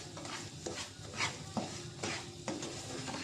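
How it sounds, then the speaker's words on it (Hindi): Semolina roasts in a pan for halwa, with a low sizzle beneath repeated scraping stirs and occasional clinks of a spoon against the metal, moderately close. "सूजी ऐड कर दूंगी और इसको हमने उस वक्त तक भूनना है जब तक इसमें एक अच्छी सी खुशबू ना आनी स्टार्ट हो जाए।"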